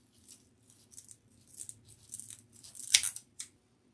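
Scissors snipping off excess mesh for an autumn flower wreath, a series of light, close cuts and rustles with one sharper louder snip near the end.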